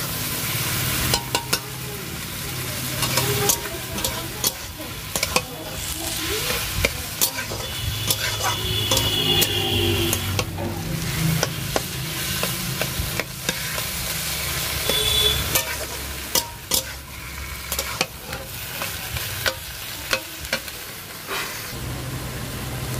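Taro leaves with onion and green chili are stirred in a hot pan, oil sizzling steadily beneath repeated scraping strokes of a spatula, close and fairly loud throughout.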